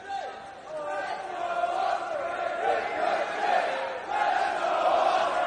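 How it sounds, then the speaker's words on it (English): A fired-up arena crowd at the Pro Wrestling World Cup semi-final in Newcastle roars and chants continuously, a dense wall of voices swelling and surging throughout. "Listen to this crowd in Newcastle, fired up for the Pro Wrestling World Cup finals."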